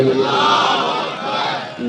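A crowd at a religious gathering shouts the Islamic slogan Nara-e-Takbeer in unison, one loud, sustained collective cry that fades slightly at the end.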